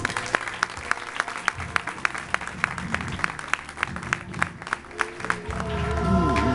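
Applause at an outdoor church revival gathering, a scattered crowd clapping with sharp, uneven hand claps for several seconds, swelling into a louder, denser noise near the end.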